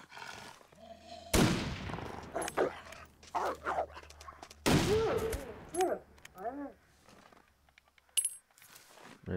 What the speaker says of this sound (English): that's what the gun sounds like